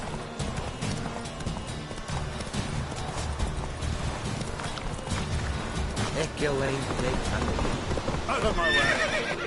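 Roach, a horse in The Witcher 3: Wild Hunt, gallops with steady clip-clop hooves and occasional whinnies, joined by game music, scattered crashes and a voice talking over the ride.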